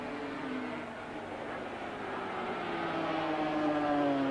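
Kenny Roberts' racing motorcycle at the 1983 German Grand Prix whines with a rising then falling engine pitch as it passes, steady and mid-distance with crowd and track noise underneath.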